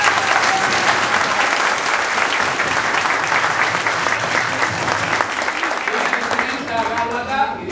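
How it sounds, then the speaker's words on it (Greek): A crowd at an outdoor festival event in Zakynthos applauds loudly and continuously, a dense wash of clapping with voices mixed in that tapers off near the end. "Ένα χειροκρότημα για αυτούς."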